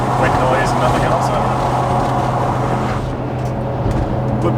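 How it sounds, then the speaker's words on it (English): Wind rushing through an open truck window while driving on Goodyear Duratrac off-road tires, a loud constant roar with a low tonal tire hum underneath, with talking over it. "You can hear just wind noise and nothing else"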